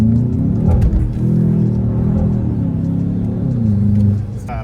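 A VW Jetta GLI, around 200 horsepower, accelerating hard on the road, with loud, steady engine and road rumble throughout and a rising drone near the end.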